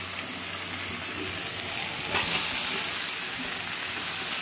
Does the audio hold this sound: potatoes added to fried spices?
yes